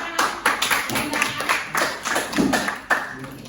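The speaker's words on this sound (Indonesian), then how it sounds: "Ya, tepuk tangan." A small group claps hands in a classroom lesson, a few uneven, close claps and taps with irregular rhythm rather than full applause.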